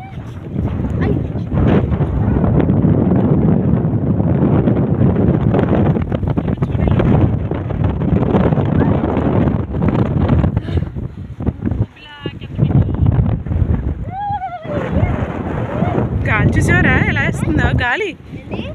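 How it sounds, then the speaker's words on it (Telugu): Strong wind buffets the microphone in heavy, continuous gusts on Kalingapatnam beach near Srikakulam, with voices talking and calling out over the roar. "గాలి గాలి గాలి గాలి ఎలా వేస్తుంది"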